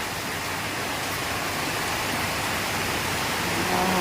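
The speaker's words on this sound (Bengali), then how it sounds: "বাইরে প্রচণ্ড বৃষ্টি পড়ছে" Heavy rain pours down outside, a thick, unbroken hiss of water that holds loud and steady throughout with no pauses and no talking.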